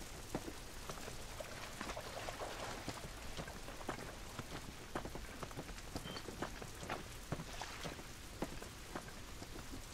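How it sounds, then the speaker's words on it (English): Constant rain in The Last of Us video game pattering on a surface, with scattered sharper drops ticking throughout at an even, moderate level; no voices. "This rain ain't gonna do us any good."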